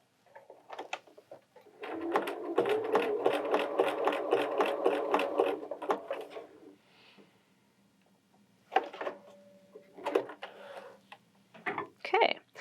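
A Bernina 325/335 sewing machine stitches a wide basting zigzag in a rapid, close mechanical chatter lasting about four seconds. A shorter burst follows after a pause, with a few clicks around it.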